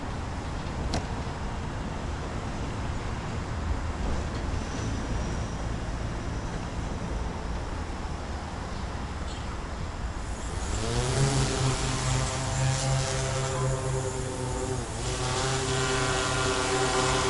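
An agricultural spraying drone, a 616 model, sits at low idle hum for about ten seconds, then its rotors spin up sharply into a loud, rising whir as it lifts off and hovers close by.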